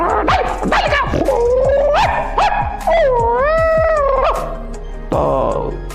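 A man imitates the barking, yipping and whimpering of a foreign-breed pet dog, a run of sharp, close, loud vocal barks and whines with a sustained wavering whine in the middle.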